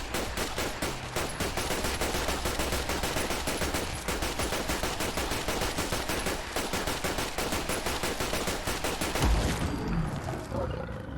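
A Tec-9 pistol fires rapid, continuous bursts at a Deathclaw in Fallout 4, loud dense shots rattling almost without pause before a heavy thud and roar near the end, with no talking.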